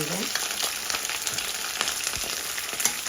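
Onion and green chillies fry in a pan with a constant broadband sizzle and occasional soft stirring taps scattered throughout, moderately quiet and close, with no speech.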